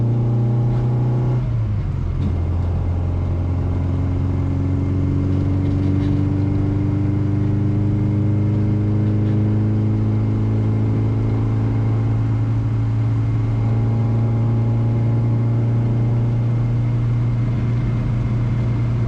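A restored classic Mini pulls hard in third gear from inside the cabin, its engine droning steadily as the pitch climbs and then holds high and loud, with a brief lift early on and no talking.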